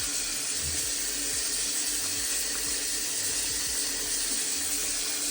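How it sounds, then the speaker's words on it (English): Tap water runs steadily from a faucet into a sink during face washing after a shave, a continuous close hiss filling the whole stretch with no talk. "I'm gonna wash my face"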